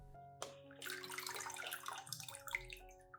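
Water poured steadily onto the soil at the base of a potted anthurium, a soft continuous trickle and splash, faint and close, with a low background hum.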